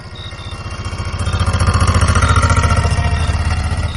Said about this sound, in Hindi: ऑटो में बैठते ही राजू भाई ने चुपचाप इंजन स्टार्ट किया